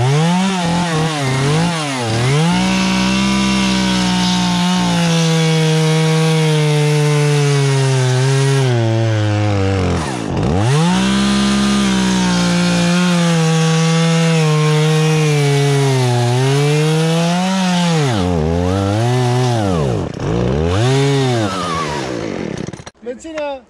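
A chainsaw revs and bogs steadily while cutting wood on a hillside trail build, loud and close, its engine pitch dipping and recovering repeatedly over roughly twenty seconds.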